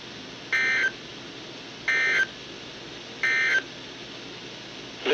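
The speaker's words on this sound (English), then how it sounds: "The following tones will conclude this test." Emergency Alert System weekly test closing tones from NOAA weather radio: three identical short electronic beep bursts, evenly spaced about a second and a half apart, clear and alone over a faint background hiss.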